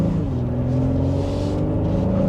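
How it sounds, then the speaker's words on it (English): A 2026 Honda Pilot Trailsport SUV accelerates to merge into traffic, its engine a steady, loud hum heard from inside the cabin, the pitch rising slightly as it gains speed. "And then we'll get back up to speed here to merge in with traffic."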